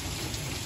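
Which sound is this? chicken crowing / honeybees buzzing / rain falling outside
rain falling outside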